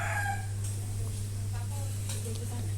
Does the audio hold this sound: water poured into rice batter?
no